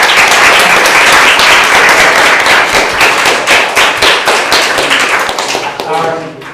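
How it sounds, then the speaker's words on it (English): Loud, sustained applause from a crowd, dense clapping that fades slightly toward the end. "Can we just get a quick round of applause?"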